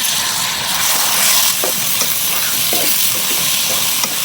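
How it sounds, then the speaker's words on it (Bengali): Onions frying in a pan for biryani, browning toward a crisp golden fry, give a steady, close sizzling hiss with a few soft stirring clicks throughout. "আমার পেঁয়াজটা একদম ভাজা ভাজা হয়ে আসছে"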